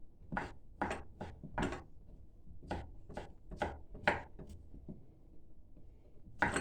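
A knife chops meat into very small pieces on a board for kelle paça soup, a Turkish winter soup of head and trotter meat, giving a run of about a dozen sharp, close thuds in irregular bursts with pauses between.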